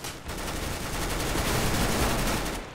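Rapid automatic gunfire in the shooter game CS:GO, a dense, continuous burst of shots lasting a few seconds at moderate loudness, with no talk over it.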